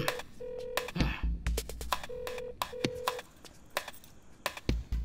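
A phone keypad beeps through a run of dialing tones for a video call, short evenly spaced bleeps with a couple of held tones, set against a dubbed action film's background music and soft thumps.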